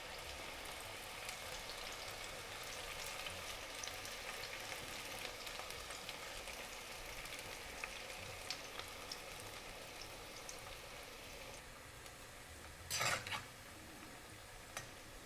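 Pakora chunks cooking on medium heat, a soft, even frying crackle that stays faint and steady throughout, with one brief louder clatter near the end and no talking.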